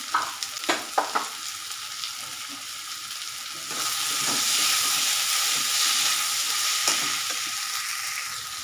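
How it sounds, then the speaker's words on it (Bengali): Boiled banana flower is stirred in a frying pan: a few scraping stirs at first, then a loud, steady sizzle of frying that fills the rest, with another stir near the end. "মোচার সিদ্ধটাই দিয়ে দিলাম"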